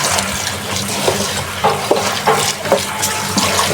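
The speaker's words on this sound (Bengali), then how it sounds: "এখন আমি শাকগুলো ধুয়ে নেবো" Leafy greens get washed under a running kitchen tap, a loud, steady gush of water close by, broken by splashes and shifts as the leaves are moved in the stream.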